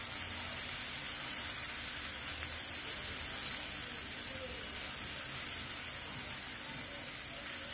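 Onion, ginger and garlic paste frying together in a pan produce a constant dense hiss that holds evenly throughout with no talking.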